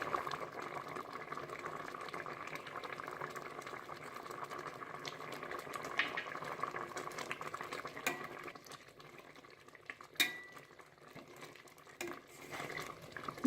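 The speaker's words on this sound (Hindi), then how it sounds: "इसे चलाते ही रहना है।" Amla murabba cooking in bubbling sugar syrup is stirred continuously in a pot, giving a steady simmering hiss with soft scraping, and a sharper clink of utensil on pot stands out briefly near the end.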